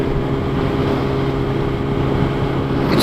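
A 2012 Kawasaki Ninja ZX10R motorcycle accelerates with a steady, close engine hum and wind rush, pulling smoothly at light throttle with no one talking.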